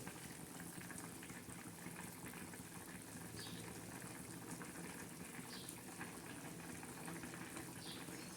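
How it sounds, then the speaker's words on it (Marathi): A ridge gourd and moong dal curry simmers in a pot, its steady bubbling and gurgle low and continuous, faint and close with no talking. "हे बघा कसे गदगद भाजी शिजते"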